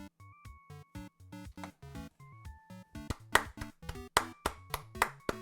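Clapping in the video game In Stars and Time, a chiptune-style sequence of short clap hits layered over a bouncy melodic jingle, the claps growing louder and sharper toward the end.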